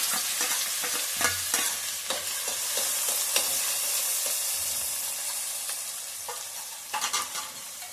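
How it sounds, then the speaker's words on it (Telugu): Onions frying in a pan of oil after tempering seeds, a loud continuous sizzle with frequent scraping and stirring clatter close by. "మగ్గిన తర్వాత ఉల్లిపాయలు వేసుకున్నాం."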